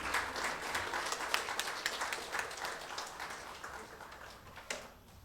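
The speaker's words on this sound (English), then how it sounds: "Please have a big round of applause, please." Audience applause at an HR conference meet of about a hundred people, a sustained patter of many hands fairly close, slowly thinning out toward the end with a few sharper claps.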